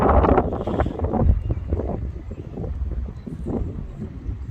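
Strong wind buffets the microphone on a bridge in Bremen, a continuous low rumbling roar with gusting swells and no voices.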